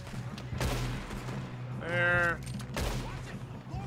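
Gunfire in a Red Dead Redemption shootout, a few sharp broadband bursts spread across the moment, with game sounds and character voices in between.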